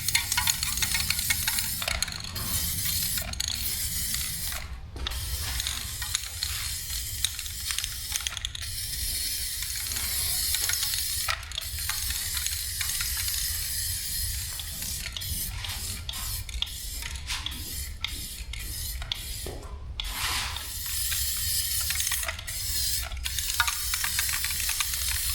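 A spray can hisses paint onto a lawn mower deck in long steady bursts, close and moderately loud, broken by short pauses and small clicks of the can's trigger handle, with no one speaking.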